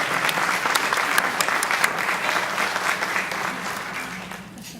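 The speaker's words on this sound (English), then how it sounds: "let's give them a round of applause" A crowd applauds steadily for a district representative at a fall revenue sharing distribution event at Saganing, a dense wash of clapping that holds for several seconds before gradually tapering off.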